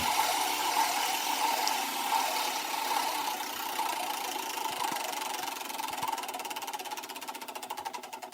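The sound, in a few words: old engine starting up and idling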